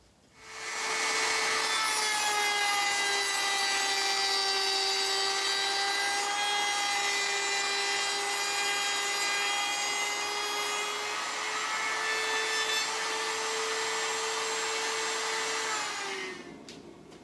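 A power saw cuts through cedar wood for an outdoor end table, a loud, sustained whining buzz with a steady tone that winds down at the end, heard close with no talking.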